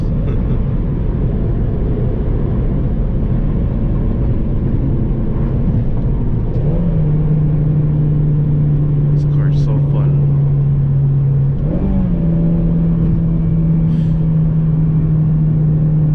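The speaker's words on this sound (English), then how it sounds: "Downshifting is the best, man. If you know how to rev match." An 8th gen Honda Civic Si engine rumbles through a drive, with steady held tones rising as it is revved during downshifts, recorded from inside the car with a person talking over it.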